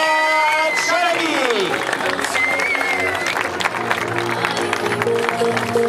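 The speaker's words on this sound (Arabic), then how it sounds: "تصفيق" Loud, steady applause and crowd noise fill a ceremony honouring an Olympic champion and handing out trophies, with voices and some tonal sounds mixed into the continuous clapping.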